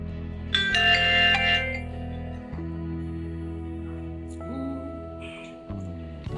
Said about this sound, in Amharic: አሁንስ ይሄ ስልክ ረበሽ?